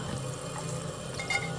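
Water running from a tap while fruit is washed, a steady close splashing flow over a low background hum, brief and unbroken.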